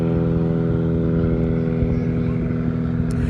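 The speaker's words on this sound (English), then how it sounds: "sorry, there's a plane that's very, very loud." Loud airplane passing overhead, a steady droning engine roar with strong low tonal hum throughout, under a person's speech.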